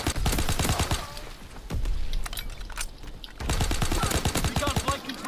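PPSh submachine gun fire in the World War II shooter Call of Duty WW2, with rapid bursts of gunfire, a short pause, then more sustained automatic fire, loud and close.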